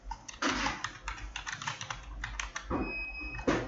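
Typing on a computer keyboard, a quick irregular run of close, crisp key clicks with a few louder taps, heard alone with no voices.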